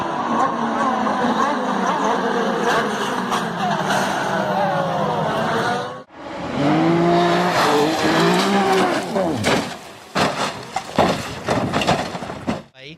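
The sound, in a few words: Pro Mazda race cars crashing, tires skidding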